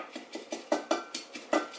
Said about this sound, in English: I'm going to take a wooden spoon and I'm just going to kind of bruise it a little bit